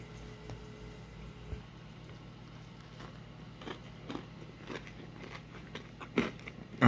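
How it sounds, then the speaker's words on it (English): Someone bites and chews a crispy Wingstop chicken sandwich with dry-rub seasoning, close-up crunches and wet mastication sounds coming in irregular bursts, ending in a louder crunch. "That crunch there"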